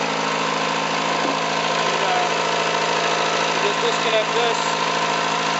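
A marine diesel engine idles on a boat out of the water on the hard, giving a steady, continuous mid-pitched hum with a faint knocking texture throughout, while someone speaks briefly over it.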